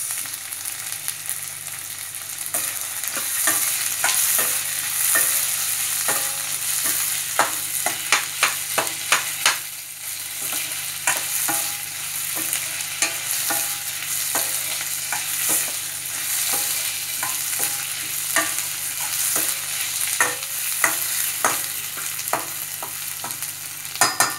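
Chilies and curry leaves frying in hot oil for a Hyderabadi-style mutton curry, a steady sizzle broken by repeated scraping stirs and spatters, close and loud throughout with no talk.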